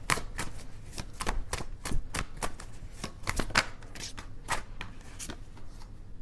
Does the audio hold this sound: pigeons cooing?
no